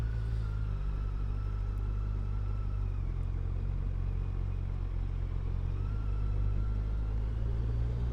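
A 2025 Kawasaki Ninja 1100 SX motorcycle rolls along at low speed, its engine giving a steady, smooth low rumble with no revving, heard close and continuous throughout.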